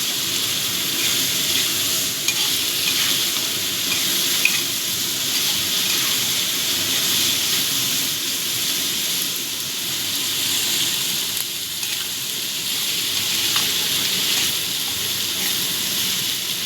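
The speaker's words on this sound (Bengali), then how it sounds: "নুনটা দিয়ে ভালো করে মিশিয়ে দেবো তাতে পেঁয়াজটা তাড়াতাড়ি নরম হয়ে যাবে" Sliced onions fry with salt in oil in a pan for a dried-fish dopiaza (shutki), giving a dense continuous sizzle with faint stirring underneath, close and steady for the whole stretch, no voices.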